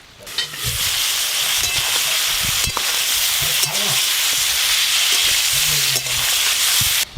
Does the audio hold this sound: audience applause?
no